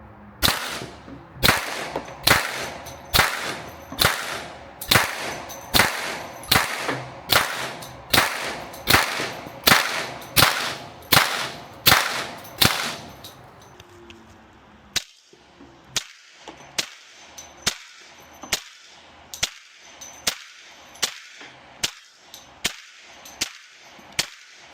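A suppressed Smith & Wesson M&P FPC 10 mm carbine fires Federal 180 grain rounds from a 20-round magazine: two long strings of sharp, loud, evenly spaced cracks, the first faster and louder, the second slightly quieter.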